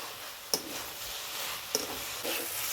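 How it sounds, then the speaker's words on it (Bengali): Okra and potatoes being sautéed with spices in a pan, a quiet steady sizzle broken by a few distinct scraping stirs of a utensil against the pan. "এখন এই ভেন্ডি আর আলুগুলোকে ভালোভাবে মশলার সঙ্গে কষিয়ে নেব।"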